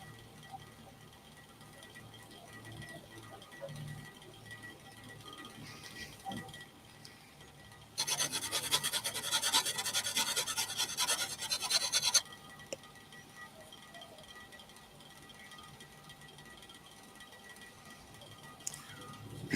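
A lathe tool rubbed back and forth on a flat sharpening stone: a steady, close, harsh scraping burst lasting about four seconds, set against quiet room noise, with no talking.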